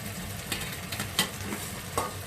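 Vegetables are stirred into frying mutton in a pan: a close, continuous sizzle broken by several sharp scraping and clinking stirs at irregular intervals.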